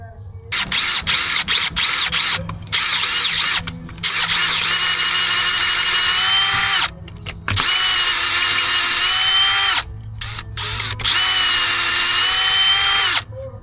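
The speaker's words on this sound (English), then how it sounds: "I had to drill them out because I couldn't get them out" A power drill boring out the threads in a Bobcat 753 skid steer's manifold: loud, close, whining bursts of several seconds each, separated by brief pauses, with the pitch dipping under load.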